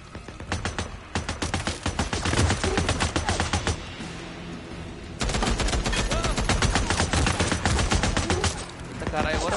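Machine gun fire in the video game Days Gone comes in long rapid bursts of dense, sharp shots, loud and close, with a brief pause in the firing partway through.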